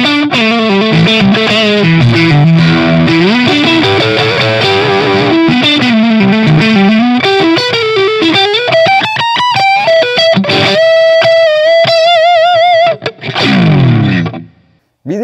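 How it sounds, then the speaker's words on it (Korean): Bacchus BSH-AGED electric guitar played through its middle pickup with overdrive: a loud, distorted run of sustained notes and melodic bends, ending in a few final stabs that cut to silence. "미들 드라이브 사운드입니다."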